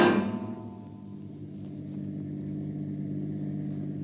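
A car engine in a radio drama sound effect idles and rumbles at a steady mid-pitched drone after a louder opening swell, with no voices heard.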